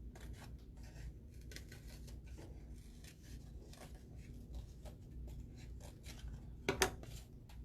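Scissors cutting out a piece of a paper plate cat mask, a soft steady rasping snip-and-rub texture close up and quiet, with a brief louder snap near the end, no talking.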